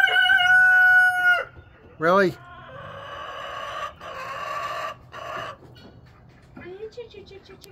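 A Rhode Island Red rooster crows loudly and close by, a long drawn call at the start, with shorter crowing and clucks after it as a person talks and coaxes nearby.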